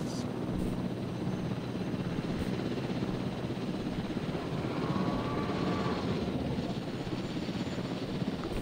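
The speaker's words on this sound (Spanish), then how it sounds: "es el que está cazando al helicóptero" A helicopter flies in the dinosaur park game Jurassic World Evolution, a steady droning rotor and engine wash that holds at an even level from start to end with no talk over it.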